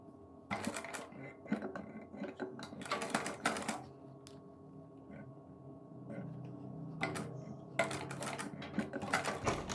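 A sewing machine stitches a neck strip onto a suit, running in several short bursts with brief pauses between them over a faint background hum.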